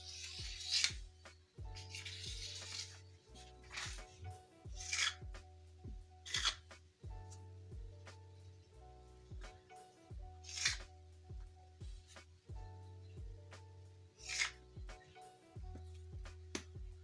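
Knife slicing through soft mandazi dough on a board, a steady series of short soft cuts and scrapes repeating in regular bursts, close and quiet with no talking.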